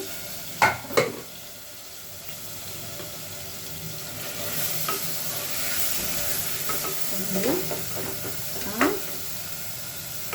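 Tomatoes fry in a pan for gongura mutton curry, giving a steady, close sizzle broken by a few sharp scraping stirs.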